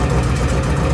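A 1972 Range Rover A-suffix engine idles with a steady, loud, low rumble, the carburettor set to run on little throttle, the beat even and close with no voices.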